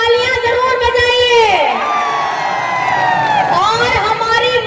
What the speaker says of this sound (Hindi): तो मैया के लिए जोरदार तालियां जरूर बजाइए